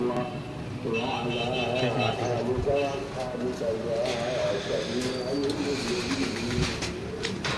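Home-kept teddy pigeons coo in soft, repeated low calls close by, mixed with someone talking over them.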